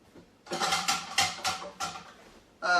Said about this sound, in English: we're going to put this dough hook in the sink